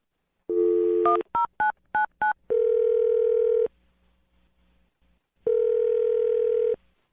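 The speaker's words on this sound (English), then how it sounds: "I'll dial the phone number right now, all right?" A telephone dial tone, then a quick run of six or so dialing beeps, followed by two long ringing tones separated by silence, all loud and close.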